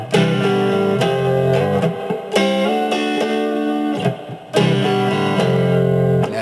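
Electric guitar playing a riff in standard tuning, loud and sustained: steady chordal hits with a slide from F5 up to G5 that ends in a wavering vibrato, a brief gap before the final ringing notes.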